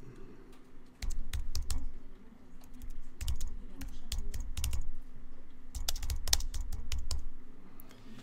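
Rapid, uneven clatter of typing on a computer keyboard, with bursts of keystrokes and short pauses, fairly close and steady, with no talk.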